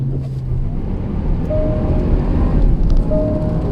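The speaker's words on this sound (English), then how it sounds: "So let's just do a little launch. See how this 550 horsepower V8 does." A 2015 Range Rover LWB with a 550 hp V8 launches hard on loose gravel, all four wheels slipping: a loud, continuous roar of engine and tyre-scrabbling gravel that builds steadily over a few seconds, with no talking.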